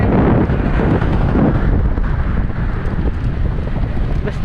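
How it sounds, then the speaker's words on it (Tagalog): Strong wind buffets the microphone with a loud, continuous low rumble and roaring gusts, no voices audible. "Grabe yung hangin guys."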